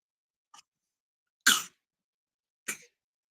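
Three short, sharp bursts of a sneeze or cough, a faint one followed by two louder ones spaced about a second apart, in an otherwise quiet room.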